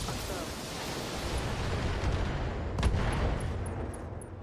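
Mech weapons firing in the BattleTech 3062 mod video game: a dense, continuous roar of gunfire and blasts that swells slightly, with one sharper burst near the end.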